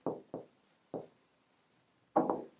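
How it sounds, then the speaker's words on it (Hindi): Pen writing on paper while working a Class 10 statistics problem, several short scratchy strokes in quick bursts with pauses between, close and fairly quiet. "थोड़ा अच्छे से लिखते हैं इसको"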